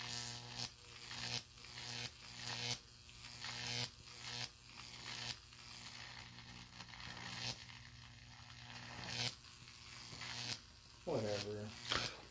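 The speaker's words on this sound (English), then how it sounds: "What's this called again? A Jacob's ladder." A Jacob's ladder electric arc giving a faint, crackling buzz that pulses in repeated bursts, with people talking over it.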